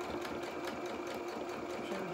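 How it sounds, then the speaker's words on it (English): Sewing machine running steadily while stitching a doll shirt collar, a continuous close, even whirring drone with no pauses and no voices. "We're going to pull those straight so that we are sewing a straight line"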